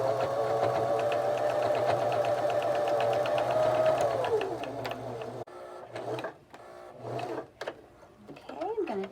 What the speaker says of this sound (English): I'm sewing at about 1/4 of an inch